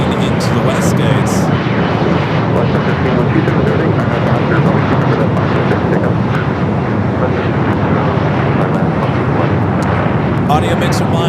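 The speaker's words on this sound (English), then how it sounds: "they're bringing in that Qantas Dreamliner heading into the west gates." Qantas Boeing 787 Dreamliner taxiing at LAX toward the west gates, a loud, sustained jet engine roar with a few faint clicks and knocks on top.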